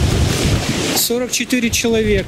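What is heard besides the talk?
strong wind at the Feodosia seaside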